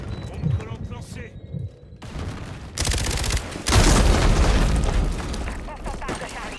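Call of Duty Modern Warfare beta gameplay erupts with a flashbang and sticky bomb explosions amid rattling gunfire, loud booms and dense bursts swelling midway and sustaining through the end, with game voice callouts in French.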